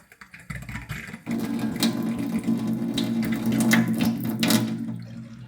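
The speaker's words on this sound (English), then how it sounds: "Now let the water run from the cold tap for about 5 minutes to activate the filter." Cold water runs steadily from a kitchen tap, flushing a newly fitted Waterdrop under-sink filter. A continuous close rushing splash starts after a short pause and holds at an even, fairly loud level.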